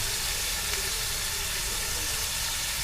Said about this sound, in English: as that bacon's cooking, I'm gonna